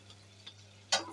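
Fried hilsa fish pieces go into a tomato spice masala in a pan, giving one sudden close sizzle burst after a quiet stretch of faint frying hiss.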